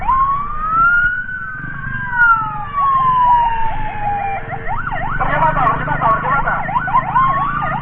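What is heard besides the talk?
ambulance siren, Mitra Medika emergency ambulance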